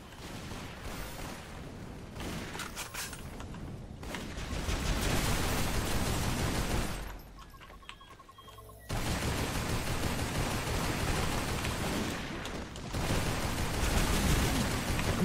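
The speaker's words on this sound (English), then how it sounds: "Why do I hear shooting coming from that direction?" Heavy gunfire rattles through a match of the shooter game Toxikk, dense sustained bursts and blasts that drop to a quieter lull midway before the shooting resumes just as loud.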